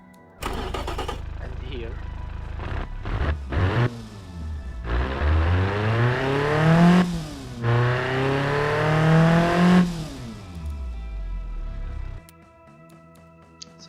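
A four-cylinder car engine in the Automation game cranks, catches and revs up to 5,500 rpm in repeated rising bursts, loud and close, with a short spoken remark at the start.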